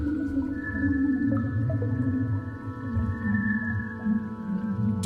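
Sonification of the SS433 black hole system: sustained layered tonal drones with steady low rumble and watery, whale-like warbling textures, continuous and fairly loud throughout.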